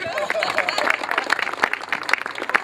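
Applause from parents and grandparents at a fathers' day celebration in a kindergarten in Brantice, with scattered claps over a steady crowd murmur and nearby voices talking throughout.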